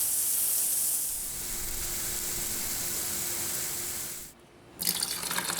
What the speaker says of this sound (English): take the hose and rinse it away.